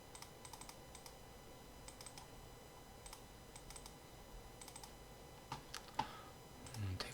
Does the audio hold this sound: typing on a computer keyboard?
yes